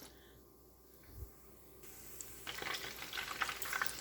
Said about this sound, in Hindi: एक पैन में हमने ऑयल डाला और हम डीप फ्राई कर रहे हैं